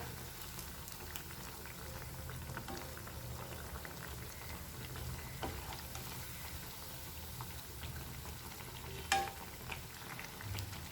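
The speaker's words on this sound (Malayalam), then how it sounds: "ഇനി നമ്മുടെ പഴം നന്നായിട്ടൊന്ന് ഫ്രൈ ആയിട്ട് വരട്ടെ കേട്ടോ." Kerala-style banana fritters (pazham pori) frying in hot oil, giving a steady, continuous bubbling sizzle throughout with a brief louder crackle near the end and no talking.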